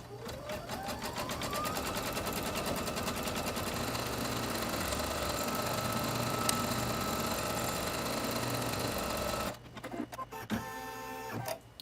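A machine embroidery unit stitches a wall hanging in a fast, continuous mechanical whir with regular needle clatter, close and steady for about nine seconds before the motor winds down and stops.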